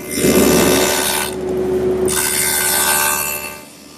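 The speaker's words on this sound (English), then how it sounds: "So I've set up my stacked dado to match that thickness." A stacked dado blade on a saw cuts a dado into wood, a loud close whine with a clear pitch that dips midway and then picks up again before trailing off.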